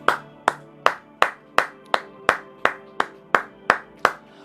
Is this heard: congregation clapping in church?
yes